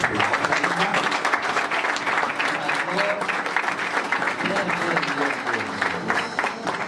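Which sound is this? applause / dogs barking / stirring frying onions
applause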